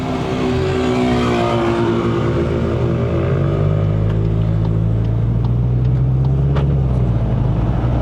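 A VW Golf GTI MK8 with a tuned engine, driven uphill in Sport mode, hums loudly from inside the cabin, its engine note climbing steadily in pitch as the revs rise, with no talking.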